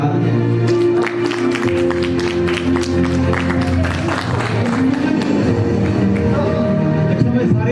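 Applause rises at an event as a guest named Shoeb is honoured, with clapping over a steady bed of background music and crowd chatter, sustained and moderately loud throughout.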